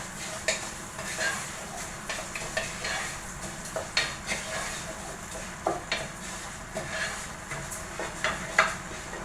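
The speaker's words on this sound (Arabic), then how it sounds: "وهنا بقى بحمر الرز لحد ما الاقي لونه خلاص يعني جولد قوي قوي" Rice browning in a pan while being stirred, with a steady sizzle under irregular scraping strokes of a spoon against the pan, close and moderately loud, the chicken cooking nearby.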